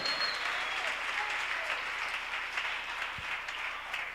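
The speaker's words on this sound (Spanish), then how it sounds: "Dale un aplauso fuerte al Señor." Church congregation applauding the Lord at a Spanish-language worship service, a steady, dense wash of clapping that fills the room evenly with no break and no talk over it.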